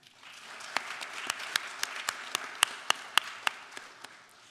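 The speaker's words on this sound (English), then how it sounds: "Please take a moment to give yourself a round of applause." Scattered claps ring out alone at an honors convocation and awards ceremony, a dozen or so sharp hand slaps at an uneven rhythm, fairly close, with a soft patter of lighter clapping underneath.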